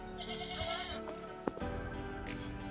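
Goats bleating at a nearby goat farm in a rural Thai garden, a few faint distant bleats over a steady background hum.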